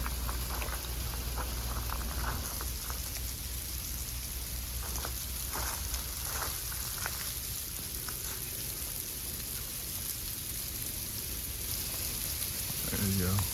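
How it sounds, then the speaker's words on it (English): A light rain shower falls during a drought, giving a steady, close patter of drops on surfaces that hisses evenly throughout. "We're getting a little shower."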